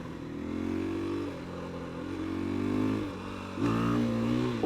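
A 2020 KTM 350 EXC-F dirt bike revs up in several surges, its engine note climbing and dropping, then pulls hard with a final loud burst, heard up close.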